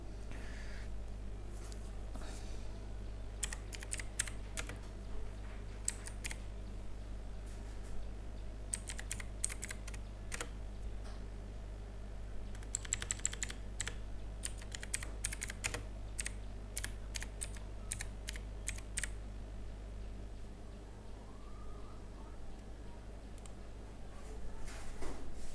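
A computer keyboard clatters as text is typed into a Shopify store editor. Quick bursts of soft, close keystrokes are separated by pauses over a low steady hum, with no speech.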